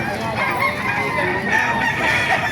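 A rooster crows loudly and close, its drawn-out call rising and falling, with other fowl clucking and a voice faintly mixed in, at a chicken market in Baliuag, Bulacan.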